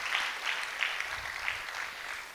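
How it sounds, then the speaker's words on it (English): An audience at a World Metrology Day celebration applauds in a steady, dense patter of many hands that holds at an even, moderate level the whole time. "A round of applause, ladies and gentlemen."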